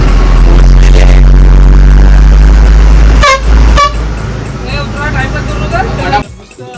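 Car horns honk loudly in short blasts amid heavy road traffic and engine rumble, with voices talking over the noise, on a road trip to Narayani Dham.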